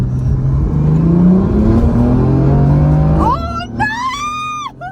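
A BMW M4 accelerates hard during a roll race against a tuned GTR, its engine loud and close with climbing rev tones, then tire squeals near the end and a brief shocked exclamation from a person.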